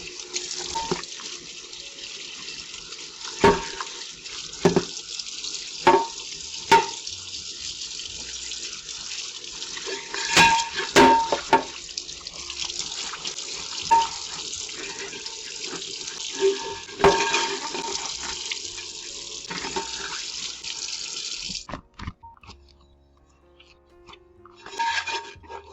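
Running tap water pours steadily over a microwave turntable being washed by hand in a kitchen sink, with scattered clinks and rubbing sounds, before the flow stops near the end.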